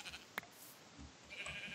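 Sheep bleating in the Minecraft video game, a short, faint burst standing out near the start with quieter game ambience running beneath.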